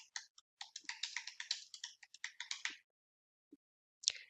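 Quick bursts of typing on a computer keyboard, close and crisp, a rapid run of key clicks with short pauses, then a few isolated taps at the end.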